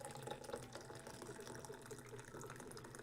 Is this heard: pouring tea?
yes